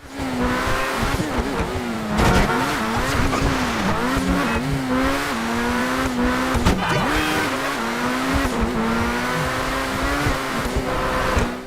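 Progen Emerus supercar racing through traffic in GTA, its engine droning steadily and shifting pitch as it revs, with repeated bursts of tire squeal, loud and close throughout.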